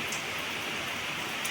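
Steady rain falls throughout as a dense, even hiss, loud and close, with no pauses and no voices.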